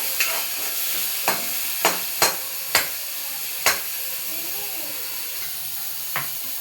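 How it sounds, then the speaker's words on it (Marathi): Tomatoes roast in a hot pan with a soft sizzle. A spatula clinks against the metal in a run of sharp, evenly spaced taps, then goes quiet apart from one last tap. "टोमॅटो, हे भाजून घेऊयात।"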